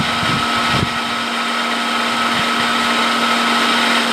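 A water pump runs with a steady, loud mechanical whine and hum, while water escapes from a leaking pump seal under about 15 pounds of back pressure, heard close up and alone without talk.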